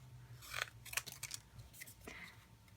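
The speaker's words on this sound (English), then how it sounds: "I cut my image pretty close" Scissors snipping a paper card image, a few quiet, close crisp cuts clustered near the start and again briefly later.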